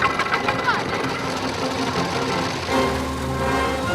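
An old vehicle's engine chugs along in top gear at around 15 miles an hour with a rapid, rhythmic mechanical knocking, steady and close, as people talk over it.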